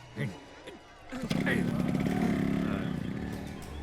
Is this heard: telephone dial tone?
no